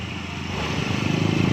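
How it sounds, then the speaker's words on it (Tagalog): A Honda CB 125 motorcycle engine runs noisily, idling close by with a steady rough, pulsing drone that grows slightly louder and more rhythmic toward the end. "Lapit ka sa makina, pakinggan mo, Mr. C."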